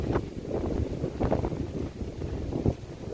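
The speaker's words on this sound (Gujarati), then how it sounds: "વાતાવરણ બાકી મસ્તી નો જાય એમ પવન આવે છે" Wind gusts across an open farmyard in rural Gujarat, making a continuous rushing buffet against the microphone that swells and eases in uneven surges, with no voices.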